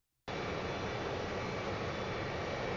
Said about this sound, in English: it also has a new engine sound instead of using an engine sound from another plane